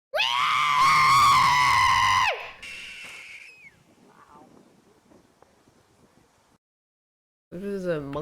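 A human voice imitating a hawk's screech: a loud, sustained, strained high-pitched cry lasting about two seconds, then near silence with faint rustles, and a second shorter wavering vocal cry at the end.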